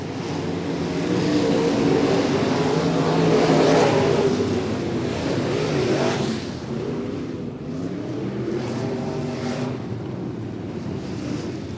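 Sportsman race cars circling the track at Macon Speedway during a Topless 40 feature, heard as a loud, continuous roar of engines blending with wind noise, swelling as the cars pass and then easing to a steady drone.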